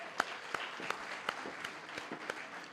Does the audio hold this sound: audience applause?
yes